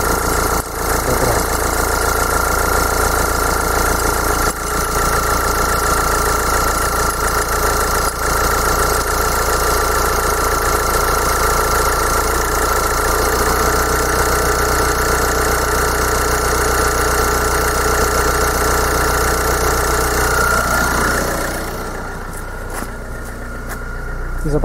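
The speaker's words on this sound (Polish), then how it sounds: "Silniczek chodzi ładnie," A Bosch common-rail diesel car engine idling steadily nearby in limp mode with fault P0088 (rail pressure too high), a constant low rumble and light ticking knock, easing slightly near the end.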